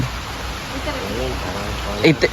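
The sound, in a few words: rain falling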